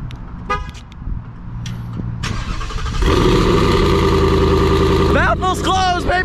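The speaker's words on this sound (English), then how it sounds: "Want to hear a real cold start? This is what your Mustang should sound like." A Ford Mustang engine cold-starts, cranking and catching, then settles into a loud, steady idle, with a voice speaking near the start and end.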